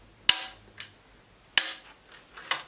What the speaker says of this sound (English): one ejector went off and the other went off